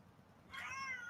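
A cat lets out a single clear, drawn-out meow at close range after a quiet moment, with no talking over it.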